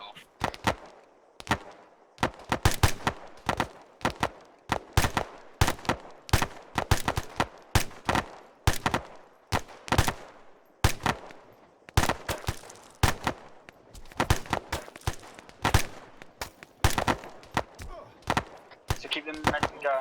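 Heavy, rapid gunfire crackles through an airborne division training exercise: dense bursts of sharp, loud shots fire in quick irregular volleys for the whole stretch, with short gaps between clusters.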